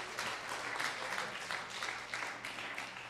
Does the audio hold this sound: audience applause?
yes